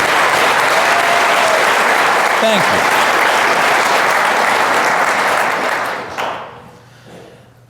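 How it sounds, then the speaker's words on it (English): An audience at a live talk applauds medical and healthcare workers, a loud sustained roar of clapping that drops away near the end, with a brief voice over it. "would you applaud these fine people?"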